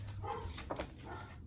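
Indoors, a dog barks and whines at a delivery truck passing outside, giving a few muffled, fairly faint yelps and barks over low room noise.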